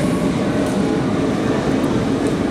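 A train rumbles by close and loud, a dense continuous roar of wheels and cars with faint squeals on top, no voices.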